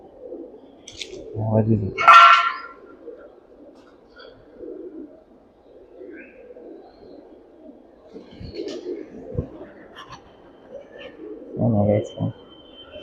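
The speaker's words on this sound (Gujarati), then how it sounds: "આ બાજુ કબૂતરા છે" Pigeons coo in repeated soft bursts at a Hindu temple of Meldi Maa, heard close by, with people talking over and between the calls.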